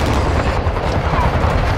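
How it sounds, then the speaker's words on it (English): A cruise missile strike explodes in Call of Duty: Modern Warfare, a loud, dense, sustained blast filling the short moment without pause. "Friendly cruise missile approaching target."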